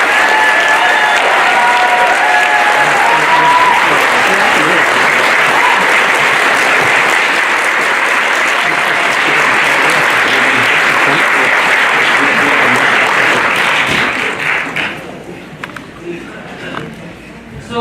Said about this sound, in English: So can you give me a round of applause for Loung Ung?